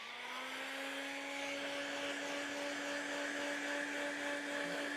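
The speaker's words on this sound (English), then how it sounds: "I am going to put the heat gun on full setting" A heat gun runs on its full setting for vinyl wrap work, a steady whirring fan drone with a constant whine that holds evenly from start to finish, faint and alone.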